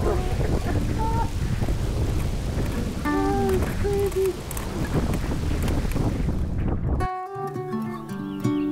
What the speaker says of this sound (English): We knew that a storm was coming, but not this kind of ice storm.